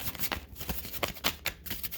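A deck of tarot cards is shuffled in a quick, soft riffle, a string of close, fluttering bursts with no talking over it.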